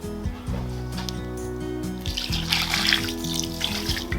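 Water pours steadily onto salt in a large container, splashing and gurgling for a few seconds with a constant low hum underneath.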